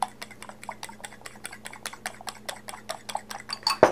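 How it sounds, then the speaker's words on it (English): Seasoned ingredients mixed with a utensil against a bowl, a quick steady series of clinking, tapping strokes, close and moderately quiet over a faint hum, ending in a louder clatter. "Mix them again."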